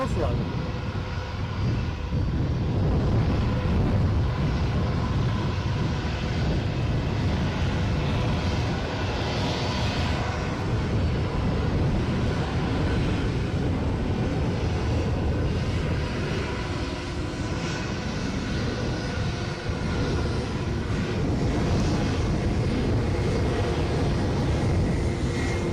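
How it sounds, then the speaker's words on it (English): A passenger plane at gusty Edinburgh airport, an SAS flight bound for Oslo, makes a continuous broad engine roar mixed with wind noise that stays steady and fairly loud throughout, with no voices heard. "This plane returning to Oslo."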